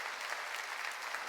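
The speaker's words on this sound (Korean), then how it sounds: "박수치라." A church congregation at a 2018 summer mountain revival meeting claps together in a steady, dense wash of applause, fairly quiet and continuous throughout, with no voices standing out.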